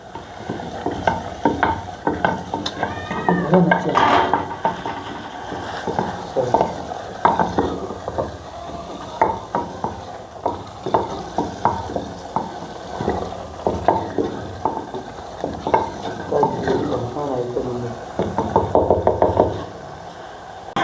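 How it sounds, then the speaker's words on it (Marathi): Fish pieces are turned through a spice masala in a clay pot, giving continuous close scraping, knocking and wet stirring over a low sizzle, busy and fairly loud throughout. "मसाल्यांमध्ये मासे व्यवस्थित असे एकत्रित करून घेऊया"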